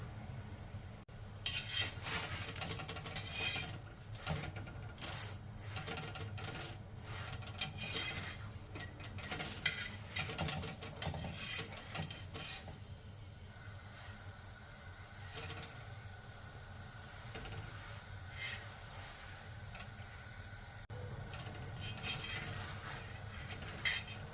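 A spoon repeatedly scrapes and knocks against a pan as lachha paratha layers are stirred while frying in oil, with soft sizzling underneath and irregular sharp clinks throughout.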